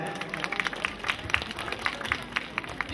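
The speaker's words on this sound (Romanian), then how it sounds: "Vă rugăm aplauze" An audience at the Ziua Banitei festival in 2016 claps in quick, scattered bursts. The applause is faint and distant, mixed with a voice speaking.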